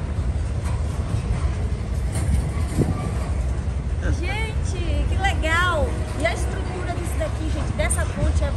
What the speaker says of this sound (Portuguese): O trem passando por baixo e lá em cima é as carretas, caminhão, ônibus